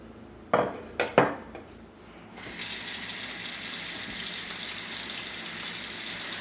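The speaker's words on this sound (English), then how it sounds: "So next I'm just going to kind of wash and rinse the vegetables with some cold water in this big bowl" Water splashes into a big bowl of cold water as cucumbers and apples are rinsed: a few sharp knocks and splashes first, then a steady rush of running tap water filling the bowl to the end.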